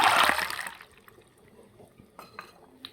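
Water splashes and pours into a vessel of raw peanuts for soaking, a brief loud gush at the start that fades into small trickles and faint clinks.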